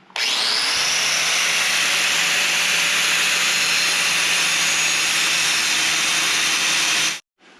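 Bosch angle grinder cutting into a metal door frame, a loud continuous high-pitched whine and grinding roar running about seven seconds, then stopping abruptly.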